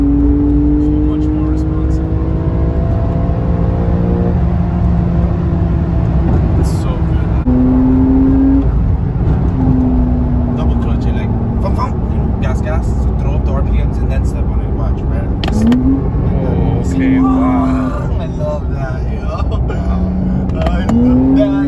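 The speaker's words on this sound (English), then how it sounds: "Up the RPMs like that and you're gone" A 2020 Porsche 911 Carrera S engine revs and accelerates hard. The loud, close engine note climbs in pitch repeatedly with shifts between bursts, and people talk over it.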